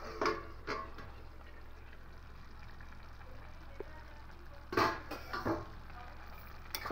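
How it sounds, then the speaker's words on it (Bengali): A spoon stirs half-boiled rice and potato-soybean vegetarian biryani in a pot, giving soft scraping clatters in two short clusters over a low steady hiss of simmering, otherwise quiet. "খুব ভালো করে নেড়ে নেবো।"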